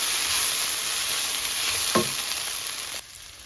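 Garlic sautés in a pan for a Kerala-style prawn roast, giving a steady, close hissing sizzle with a brief stirring scrape near the end, then the sizzle suddenly drops away.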